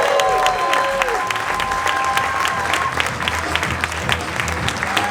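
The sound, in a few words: audience applause welcoming a speaker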